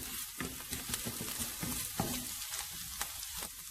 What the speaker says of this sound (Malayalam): നമുക്ക് ഈ മുട്ട ജസ്റ്റ് ഒന്ന് ചിക്കി കൊടുക്കാം